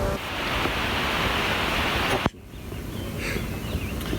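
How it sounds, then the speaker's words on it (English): A steady, loud rush of turbulent water and air as a pool pump, running without its basket, sucks in air through a vortex, cuts off abruptly partway through and leaves a quieter hiss. "without the basket, the water creates a vortex and sucks in air"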